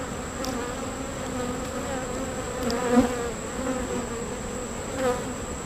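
Honeybees in a hive colony hum in a steady, close, dense drone, with a few individual bees buzzing slightly louder as they pass.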